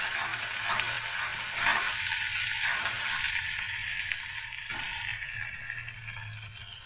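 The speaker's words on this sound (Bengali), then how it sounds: "দিয়ে ভালোভাবে নাড়াচাড়া করে নেব।" Ginger-garlic paste fries in oil in a kadai as it is stirred, a close, steady sizzle broken by several scraping sweeps of the spoon against the pan, with no voices.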